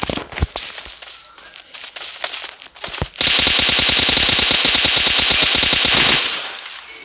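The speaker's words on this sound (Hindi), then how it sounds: "मैं स्मोक के थ्रू गोली मारता हूँ" Sustained rapid automatic gunfire in the PUBG battle royale video game, loud and continuous for about three seconds after scattered single shots and game noise, with no talking.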